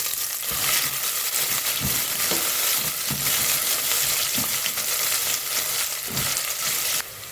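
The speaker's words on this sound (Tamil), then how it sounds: "ஒரு பெரிய வெங்காயம் கட் பண்ணி வச்சுருக்கேன், அதையும் போட்டுக்கலாம்" A large chopped onion and whole spices such as cloves fry in a pan for a wheat rava dish. A loud, steady sizzle carries periodic scraping stir strokes, close up, with no voices.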